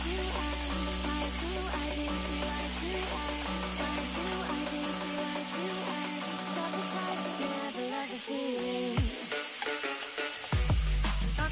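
Tomatoes fry with egg in a pan for a Chinese-style egg and tomato dish, giving a steady, close sizzle with occasional stirring under background music.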